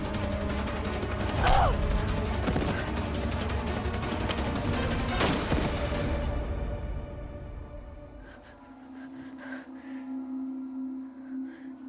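Sharp gunshots crack through a dense, loud roar of noise for several seconds, then the din drops away, leaving a quieter steady tone and scattered sounds.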